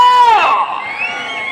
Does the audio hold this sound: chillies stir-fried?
no